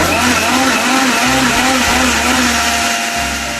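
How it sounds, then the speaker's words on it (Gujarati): An electric mixer blends roughly chopped mango into rabri, its motor whirring loud and steady with a close, grinding drone that dips briefly in pitch before evening out. "એને મિક્સરમાં આપણે એકદમ સરસ ટર્ન કરી લેશું"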